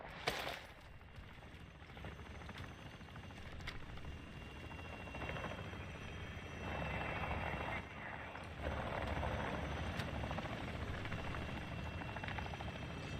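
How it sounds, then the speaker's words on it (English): Enemy attack helicopter closing in during a Call of Duty DMZ match, a steady loud rotor drone that swells and holds throughout, with faint game sounds mixed in. "the enemy attack helo is moving in your direction"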